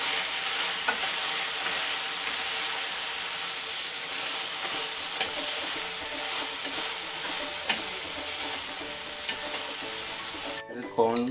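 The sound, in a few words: stirring tuna chilli in a frying pan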